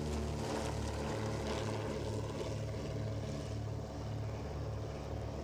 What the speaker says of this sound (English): Less rare is the Dragon Rapide. It's a more advanced design than the Dragon, and with 200 horsepower Gypsy Queen engines,